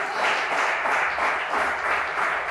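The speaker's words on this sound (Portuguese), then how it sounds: "Quem crê nessa verdade, louve a Deus com as palmas" A church congregation claps their hands together in praise, a steady dense wash of applause that fills the space without pause and with no voices rising above it.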